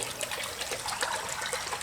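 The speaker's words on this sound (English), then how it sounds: "the air pressure is pushing down, and that's what's" Water pushed by air pressure into a plasma cutting table's tray, a steady broadband trickling and gushing that runs continuously and fairly loud throughout, with no talking.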